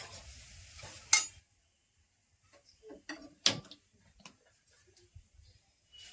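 Semolina dry-roasting in a pan without oil, giving a few sharp scraping and stirring strokes with quiet gritty rustles between them, close and fairly faint, with no talk.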